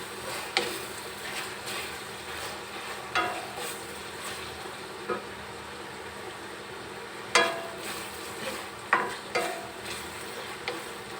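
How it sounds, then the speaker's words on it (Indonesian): Salted fish (ikan asin peda) sautéing in about three tablespoons of oil, with gentle sizzling and scattered stirring scrapes and clicks at close range, no talking. "Di situ jadi semua menumisnya yang bekas ikannya tadi."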